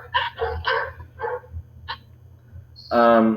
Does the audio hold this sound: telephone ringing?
no